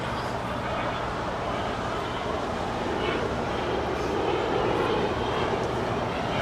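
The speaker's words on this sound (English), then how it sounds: "Korean Air Cargo 747. It's flight 207 coming in from Seoul. Flying over the airport" A Korean Air Cargo Boeing 747 freighter flies over Los Angeles International Airport, a continuous loud jet rumble that swells slightly toward the end, with possible faint talk beneath.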